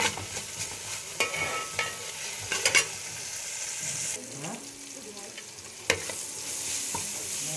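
Tomatoes sauté in a pan while being prepared for a macaroni dish. A steady close sizzle runs throughout, broken by sharp scraping stirs and clinks of a utensil against the pan.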